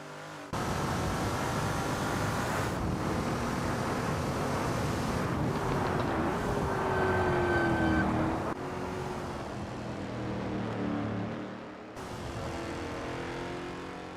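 Lola T70 MkII Spyder race car at Kyalami in a racing video game, its engine droning steadily and loud, rising in pitch under acceleration and shifting tone between gears across several sustained stretches.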